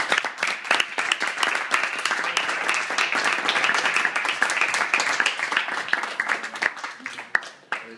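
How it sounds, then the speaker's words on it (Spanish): Audience applauding at a diploma award ceremony at a secondary school, a dense burst of clapping from a crowd that fades out gradually, with a few voices mixed in. "le damos un aplauso, yo creo"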